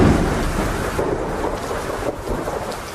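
Heavy rain pours steadily with deep thunder rumbling throughout, a dense continuous downpour with no voices, suited to a night drive on the Mumbai–Pune Expressway.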